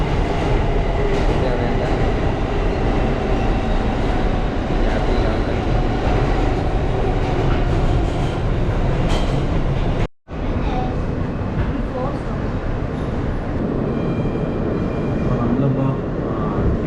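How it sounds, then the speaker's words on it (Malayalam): Steady, loud rumble and rattle of the AirTrain to JFK airport while riding inside, with continuous wheel and carriage noise and a brief dropout partway through. "നമ്മളിപ്പോൾ ട്രെയിൻ കയറി."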